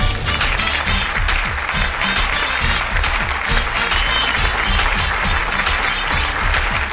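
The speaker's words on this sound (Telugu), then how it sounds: "మెగాస్టార్ చిరంజీవి గారికి ఒక్కసారి గట్టిగా చప్పట్లు" Dense, sustained applause from a television dance-show studio audience, with a steady wash of many hands clapping throughout and a low musical beat pulsing underneath.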